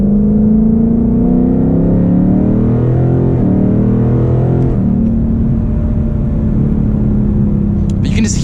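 Loud, close drone of a Ford Mustang GT V8 engine revving and shifting while driving, with deep rumbling tones rising and falling through gear changes and a voice talking over it.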